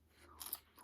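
Crisp close-up crunching and chewing of crunchy Chinese takeout food, a few quick bites within a second, no talking.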